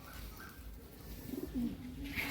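An Andhra pigeon, a black bird with a paired tail shown at a pigeon sale, gives a couple of soft, low coos over faint background noise.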